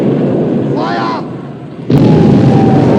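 Warship guns firing with shell explosions in a naval battle film: a voice calls out briefly, then a sudden heavy blast hits near two seconds and its roar rumbles on, loud and close.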